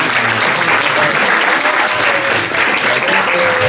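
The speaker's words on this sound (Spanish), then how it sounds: "Un caluroso aplauso." Warm applause from a conference audience at a talk on Mexico's 1985 earthquake, loud, continuous clapping from a full room, with faint voices underneath.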